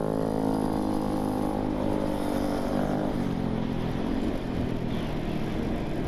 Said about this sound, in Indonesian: Gerung bang, gerung bang.